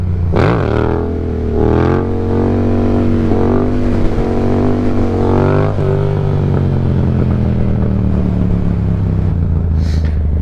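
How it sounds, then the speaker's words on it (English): A motorcycle engine revs hard in a series of rising and falling throttle blips while the rider sets up a second-gear stand-up wheelie outdoors in the cold, loud and close, then settles into a steady drone. "Haven't done a stand-up in second gear in forever, so I gotta warm up to it."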